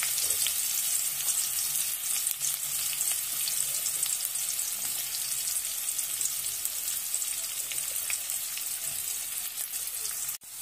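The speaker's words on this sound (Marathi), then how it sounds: "कांदा आणि मिरची मी सोबतच भाजून घेणार आहे" Chopped onion and green chilies frying together in a pan for pithla, giving a steady, bright hiss of sizzling oil with occasional light stirring clicks, close and fairly loud, continuing unbroken until a brief cut at the end.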